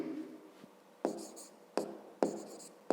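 Chalk or marker strokes on a board as a maths equation is written, four sharp scraping bursts spaced about a second apart, close and fairly quiet, with no talking.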